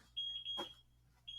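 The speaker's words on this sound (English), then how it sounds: "There's a clock that's beeping." A wall clock in a middle school room gives off a faint, high, steady electronic beep that pauses briefly, with a short knock partway through, then beeps again.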